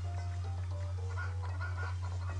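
Chickens cluck in the retro action RPG Alundra, several short pecking calls over a constant low hum of game background sound, with no one speaking.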